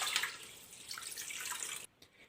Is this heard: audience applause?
no